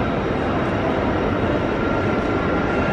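A train at a railway platform in London makes a loud, continuous rumbling roar that holds steady for the whole stretch and fills the space.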